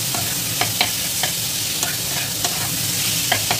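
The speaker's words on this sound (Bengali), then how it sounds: "আমি এখানে ম্যারিনেট করা চিকেনের কুচোটা দিয়ে দিলাম। এবার এটাকে ভালোভাবে একটু কষে নেব" Marinated chopped chicken stir-fried in a pan for Bengali chicken patties: a steady, close sizzle with a spatula scraping the pan at a regular rhythm and no voices.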